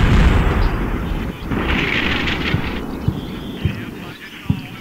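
Artillery fire in the war game Combat Mission: Shock Force, including 155mm howitzer support: a continuous rumbling barrage with scattered sharper booms every second or so, sustained and dense throughout.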